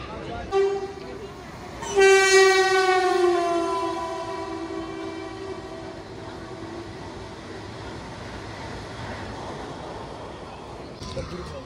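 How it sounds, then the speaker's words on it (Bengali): An Indian Railways Ganadevta Express departing Ahmadpur station sounds a loud, sustained horn blast that starts abruptly, holds for a couple of seconds and fades, leaving steady rolling rumble of the moving train. "আমাদের ট্রেন ছেড়ে দিল আহমদপুর থেকে।"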